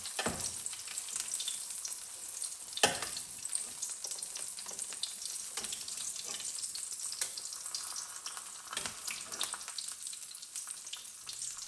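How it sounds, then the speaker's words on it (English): An egg frying in a generous pool of grease in a pan gives a steady, close, continuous sizzle and crackle with occasional louder pops, heard alone without talk. "The nice thing about having so much grease in the pan is that it creates more surface area for cooking the egg."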